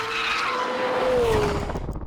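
McLaren 765 LT V8 supercar driving, a loud engine note with a rising then falling whine and a tire-like squeal, close by, ending as the sound drops away.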